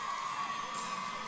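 A crowd cheering and whooping for a Texas finalist at a women's cadet wrestling championship, a sustained roar of voices in a large arena, brief and steady.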